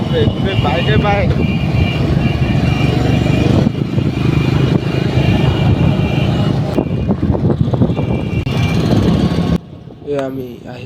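A large group of motorbikes, including sporty models like Duke, KTM and Apache, rides together on a road, engines droning and revving loudly close by, with someone talking excitedly over them.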